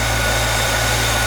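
A 1977 Mercedes 450SLC engine runs loud and close at high revs, a constant dense roar with a steady low hum underneath.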